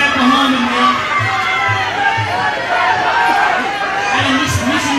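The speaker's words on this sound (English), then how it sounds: "Both these guys have a very vocal crowd behind them now." Vocal crowd at a kickboxing fight cheering and shouting in a continuous roar, with a voice and rhythmic thuds running through the din.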